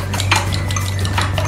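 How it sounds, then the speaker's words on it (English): Whisk stirring oil and Himalayan salt in a bowl, a soft, continuous close-up clatter of metal against the bowl over about a second and a half, with no talking. "And whisk it."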